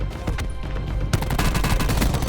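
Rapid bursts of gunfire from Black Ops 4 Blackout ring out continuously, with a sharper, louder volley kicking in halfway through and dense shots overlapping to the end.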